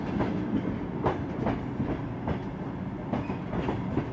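The Trans-Siberian Zarangol train rolls on its rails through the Gobi Desert, a steady rumble with rhythmic clickety-clack beats from the wheels over rail joints, close and continuous with no voices.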